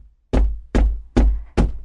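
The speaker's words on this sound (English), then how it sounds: "the fisherman went to the priest's house and knocked on his door." Four firm, evenly spaced knocks on a wooden door, loud and close, with short silences between them and no other sound.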